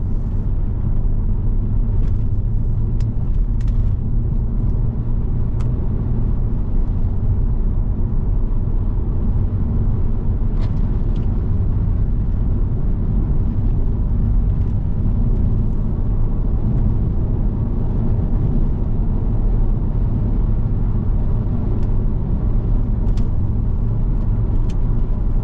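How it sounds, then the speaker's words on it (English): A Cadillac BLS 2.8 V6 Turbo drives at low speed, with a steady, loud engine and road rumble filling the interior throughout and faint light rattles from a loose exhaust box skin over it. "You can hear a little bit of rattling at low speed"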